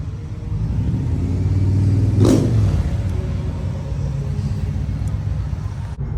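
A boosted Infiniti G37 pulls away and accelerates with a deep rumbling engine, a rising sweep swelling loud partway through before it settles into a steady drone.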